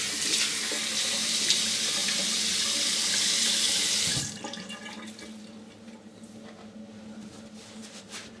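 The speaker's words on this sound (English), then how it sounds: "let's have a rinse." Water runs steadily from a tap as a safety razor is rinsed, a loud continuous gush close by that stops abruptly partway through and leaves faint drips and quiet room sound.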